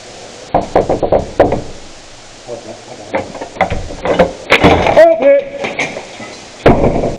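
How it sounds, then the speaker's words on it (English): Knocking on a door during a game of OP Thunderdome: clusters of sharp knocks repeat in short bursts, loud and close, mixed with game noises and a voice talking over them. "don't knock on a door in the middle of a game"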